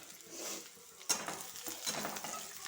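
Panch phoron whole spices drop into hot oil for dal and crackle briefly, with a faint sizzle and a light clink of a utensil against the pan.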